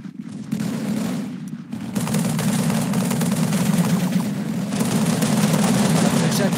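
Sustained automatic assault rifle fire from a modded Halo game, a dense continuous rattle of shots with brief pauses, loud and close throughout.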